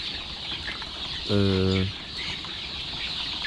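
Chickens in a coop at night before vaccination, a single loud, harmonic cluck or squawk rising briefly over a constant background hiss, with no other calls close by.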